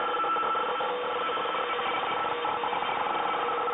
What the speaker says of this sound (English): actually hear them with their radio static noise